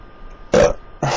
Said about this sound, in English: Watch a jigsaw burp.